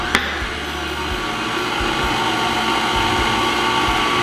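Steady whirring hum of an electric mixer kneading pizza dough, running continuously at an even pace with a brief click near the start and faint periodic thumps beneath.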